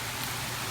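Heavy rain from Hurricane Matthew pours down at night in Jacksonville, Florida, a dense, even, unbroken hiss of falling water with no break.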